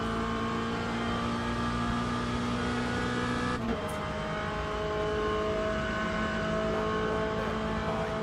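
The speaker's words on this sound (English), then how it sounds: "we're getting another round of hypercars coming around" Hypercars in Le Mans Ultimate sweep past during a GT3 multiclass race at Interlagos, a loud sustained engine drone that shifts pitch sharply midway as a car passes close, then continues roaring.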